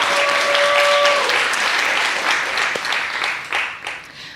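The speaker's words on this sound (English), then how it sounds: "Let's give another round of applause for Perla." An audience at a panel event bursts into applause, a dense, steady clapping that fades slightly toward the end.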